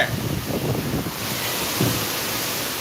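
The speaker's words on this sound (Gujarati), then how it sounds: "હજી બતાવું છું તમને કેવો ધોધમાર વરસાદ પડે છે" A heavy downpour during a windy thunderstorm: dense, steady roaring hiss of rain, loud and close, filling the whole scene without pause.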